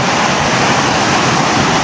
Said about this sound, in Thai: ตรงนี้ก็เป็นลำธารนะครับ ก็คือไหลมาจากน้ำตกนั่นนะข้างบนนู่น